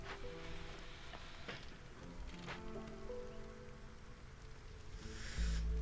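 Steady storm rain from the Against the Storm video game hisses evenly throughout, with a low ambient drone underneath and a brief brighter swell near the end.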